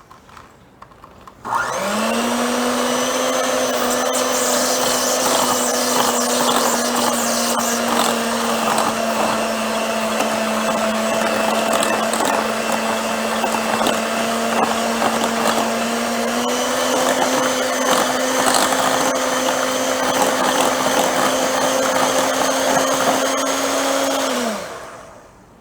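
An electric mixer whirs through banana bread batter of mashed bananas, sugar and butter for a Jack Daniels pecan loaf, a loud, even motor whine that starts abruptly, runs steadily for over twenty seconds, then winds down.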